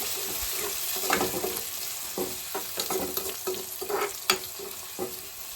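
Curry leaves frying in hot oil in a pan for roadside-style egg rice, a steady close sizzle with repeated scraping stirs and clinks throughout.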